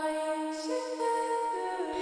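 Vocal chop sample from the Arcade plugin in FL Studio, for a simple Afrobeats and highlife beat: sustained pitched vocal tones that shift note around the midpoint, heard alone and steady for about two seconds.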